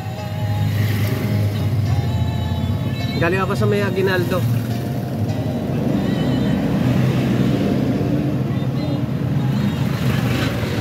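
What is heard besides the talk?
heavy road traffic, cars and motorcycles in a jam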